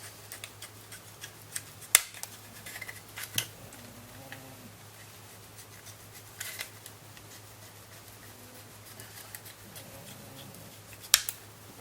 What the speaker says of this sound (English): Trim it nice and straight to the edge there.